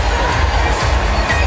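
A huge convention crowd at the Democratic National Convention in Philadelphia roars and cheers in a dense, continuous wall of sound, loud and sustained throughout.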